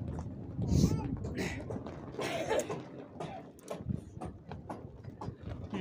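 Hooves of horses clip-clop on ground in a Mustang village, uneven knocking steps mixed with rattling gear and people talking nearby.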